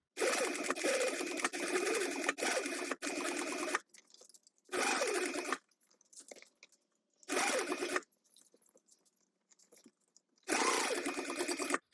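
A sewing machine stitches through fabric and a decorative lining in bursts of fast, even mechanical whirring, roughly one to three seconds each, separated by quiet pauses with small handling noises, close and clear, with no talking.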